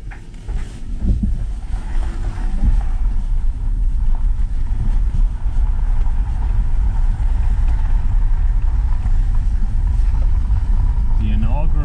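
An electric-converted Audi 80 drives along a road, giving a steady low rumble of tyres and wind with a faint motor whine, continuous and close.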